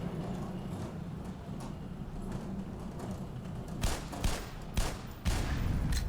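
Gunshots in Black Mesa: about four loud shots fired in fairly quick succession over a constant low rumble of game ambience, with no voices.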